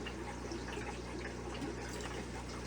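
Water pours and gushes continuously while aquarium substrate, gravel or sand, is rinsed in old tank water, a faint, steady liquid rush over a low hum with no voices.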